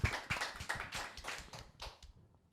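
A few people clap at a talk show about a rock band, quiet, uneven individual claps that thin out and stop after about two seconds.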